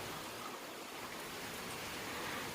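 Steady, dense rain falls in Kyoto, a constant hiss with no breaks or talking, close and even throughout.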